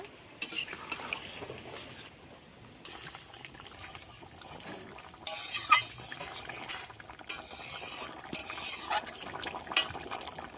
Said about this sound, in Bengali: বেটে রাখা সর্ষে দিয়ে ভালো করে ফুটিয়ে নেব